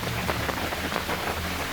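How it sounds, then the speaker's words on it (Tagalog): Heavy rain pouring down steadily in Antipolo, Rizal province, a dense, continuous hiss of drops hitting surfaces close by, loud and even with no talk over it. "Lakas ang ulan talaga."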